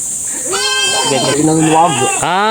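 Buck goat on a farm gives a loud, close, wavering bleat that stretches for about two seconds, followed by a second bleat beginning at the end.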